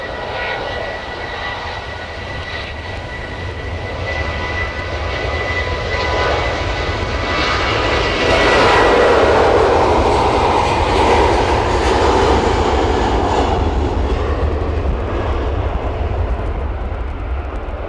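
A small aircraft comes in to land at Manchester Airport, its engine roar swelling from a distant rumble to a loud broad sweep in the middle and then easing off while staying steady.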